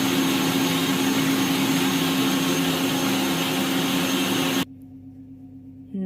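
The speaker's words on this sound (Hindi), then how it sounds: "Now we are going to blend our mixture." An electric blender whirs continuously and loudly while blending a homemade hair mask mixture, a dense steady motor roar with a high whine that cuts off abruptly near the end, leaving a quiet low hum.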